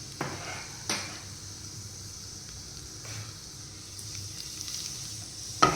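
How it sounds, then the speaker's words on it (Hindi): Cumin seeds roasting in butter in a frying pan make a soft, continuous sizzle, punctuated by a few sharp utensil knocks against the pan near the start and end. "उसके बीच में हम ये थोड़ा सा जीरा भूनते हैं"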